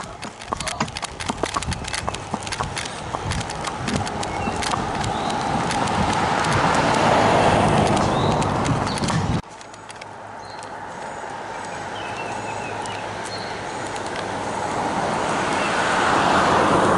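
A Paint Tennessee Walking Horse gelding clip-clops steadily along a road, hoofbeats close and rhythmic while passing traffic swells and fades around it.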